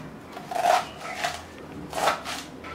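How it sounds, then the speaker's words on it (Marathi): A knife chops rolled taro leaves finely on a board in a few quick, crisp bursts of cutting, close and moderately loud. "आता ही आळूची पानं मी चिरून घेणार आहे."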